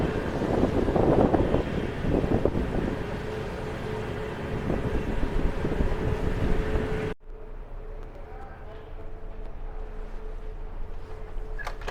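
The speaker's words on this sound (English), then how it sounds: "I'm on a ferry boat, okay, and it's a rough crossing" Heavy wind buffets the microphone over a low engine rumble of a ferry on a rough sea crossing from Keramoti to the island of Thassos, Greece; the wind roar drops abruptly partway, leaving a quieter hum.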